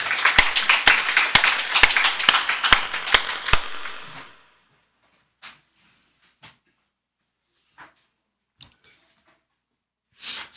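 A congregation claps in praise during a Sunday afternoon service at a Baptist church. About four seconds of sharp, evenly spaced claps in unison give way to near silence broken by a few scattered clicks.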